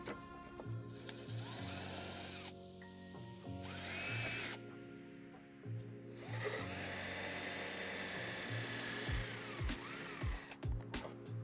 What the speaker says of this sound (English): We're going to drill 2 holes so we can put a zip tie there and secure the wire.